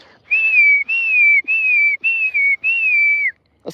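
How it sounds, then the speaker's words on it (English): A person whistles five sustained, slightly falling notes in steady succession, loud and close, calling horses to come eat. "I'm going to whistle now."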